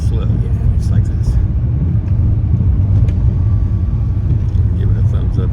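Low engine rumble of a manual-transmission car creeping slowly past close by, driven by a 12-year-old learner, steady and loud under people talking.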